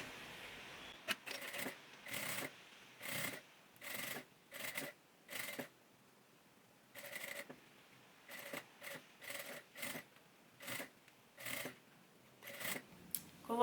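A domestic sewing machine stitches bias binding onto the edge of a fabric toothbrush holder. It runs in short, quiet bursts with clear pauses between them, about a dozen runs close by, and nobody talks.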